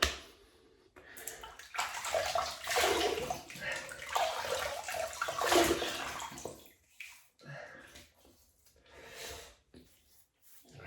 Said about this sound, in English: We'll just wet the face.